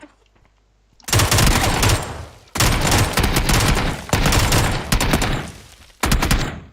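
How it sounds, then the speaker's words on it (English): Loud auto rifle bursts in the shooter game Valorant rattle off in three long sustained volleys, each several seconds of rapid continuous fire separated by brief pauses, followed by a short final burst after a quiet start. "Auto rifle"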